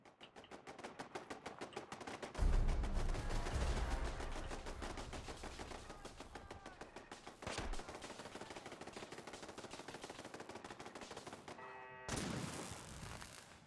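In Fallout 4, level 7 explosive turrets fire at a raider in rapid, evenly spaced rounds, joined by heavy booming blasts and one sharp impact before a brief break and a final burst.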